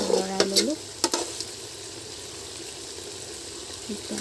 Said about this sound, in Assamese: মাংসটো ইয়াত লৰাই দিছোঁ